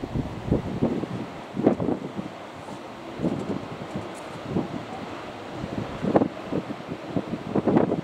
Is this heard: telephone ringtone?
no